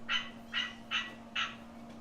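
Four loud, evenly spaced bird calls ring out outdoors in New Orleans against a steady low hum, each a brief rough burst; no voices are heard.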